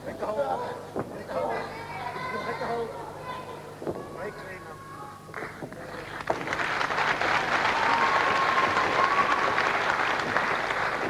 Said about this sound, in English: Applause mostly for Stewart's efforts there